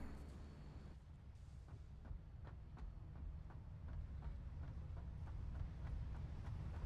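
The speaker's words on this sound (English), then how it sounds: "here's my train from the other side of the map" A train arrives in the video game Satisfactory: a faint, steady low rumble with evenly spaced clicking beats running throughout.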